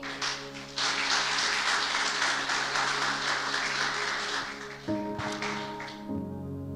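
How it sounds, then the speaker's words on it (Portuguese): Congregation at a church service applauding, with sustained crowd clapping over a held organ or keyboard chord that fades out near the end. "Você pode aplaudir o Senhor?"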